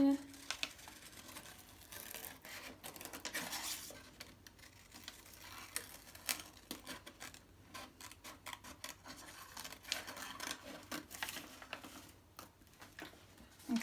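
Scissors cutting an ear shape out of paper, heard as faint, irregular snips and paper rustles at close range in a quiet room, with soft talking at times.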